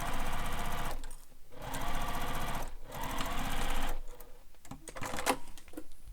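A sewing machine stitches a straight seam on a fabric wallet in short bursts, with a fast close needle chatter that stops briefly between runs and ends in uneven clicks.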